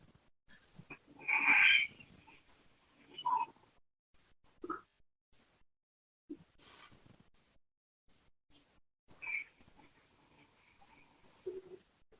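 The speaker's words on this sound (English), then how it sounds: "In yoga, they call it Ujjayi sound, sound of the ocean." A group of yogis breathe audibly in Ujjayi style, the ocean-like breath: soft, raspy inhales and exhales come in scattered, faint bursts over near silence.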